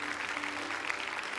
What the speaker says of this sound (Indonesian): Boleh tepuk tangan dong untuk Seiko